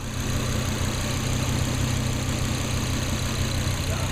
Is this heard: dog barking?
no